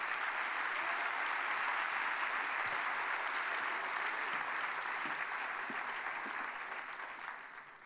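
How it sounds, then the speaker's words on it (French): An audience at an evening debate on food democracy applauds in a steady, full round of clapping that fades slightly toward the end, with no talking over it. "vous pouvez l'applaudir, je vous en prie"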